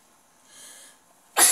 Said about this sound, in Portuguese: Me desculpa por estar espirrando